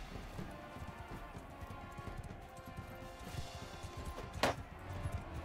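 Horse hooves clip-clop in steady, busy rhythm during a mounted battle in Mount and Blade II: Bannerlord, joined by a sharp crash-like hit near the end.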